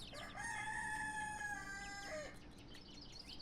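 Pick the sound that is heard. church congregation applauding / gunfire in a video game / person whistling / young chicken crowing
young chicken crowing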